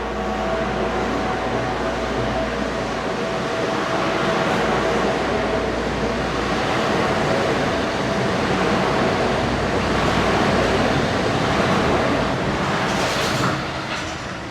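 A Tokyo monorail train pulls away from a little-used station with a continuous broad rumble and rushing wind noise, steady and fairly loud throughout, easing slightly near the end.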